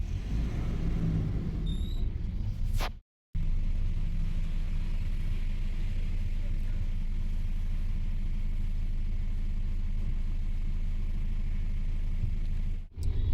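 A bus carrying passengers out of Dehradun rumbles with a low, steady engine drone inside the cabin, broken by two brief dropouts, with no talking.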